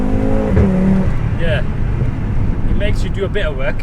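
A 516 bhp Audi RS3 hatchback accelerates, its engine a loud, steady rumble that runs throughout as a person talks over it inside the car.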